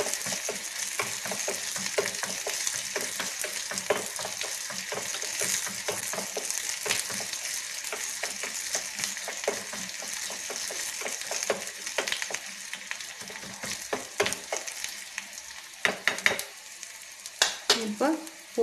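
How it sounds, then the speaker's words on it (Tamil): Garlic sizzles and sautés in a hot pan for curry, with a continuous crackling fry broken by repeated scraping and stirring of the pan, the stirring growing more irregular toward the end. "இப்போ பூண்டு நல்லா வணங்கிடுச்சு"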